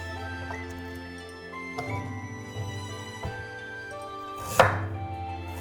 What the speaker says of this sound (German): Die weißen Stiele der Lauchzwiebeln abschneiden.